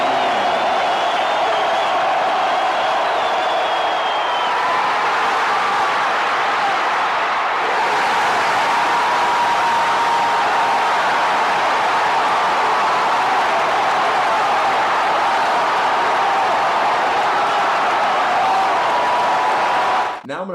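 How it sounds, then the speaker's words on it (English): Dense, continuous roar of a large football stadium crowd screaming and cheering at a Seattle Seahawks game, steady and loud for the whole stretch with a brief dip midway. "Listen to how the crowd is screaming their heads off"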